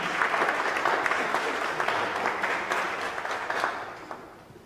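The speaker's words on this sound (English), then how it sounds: "A round of applause for our minister." A burst of applause from an audience, dense clapping that starts strong and gradually thins and fades out.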